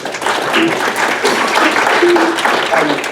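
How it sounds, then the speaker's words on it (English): An audience at a December 2019 business event applauds as a guest comes up, a dense, steady wash of clapping from a room full of people with voices and cheers mixed in. "Give him a round of applause."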